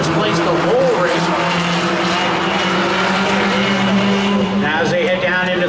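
Race cars roar around the Wiscasset Speedway oval in a Thunder 4 heat, a loud continuous engine drone with passing pitch sweeps, overlaid by an announcer calling the race.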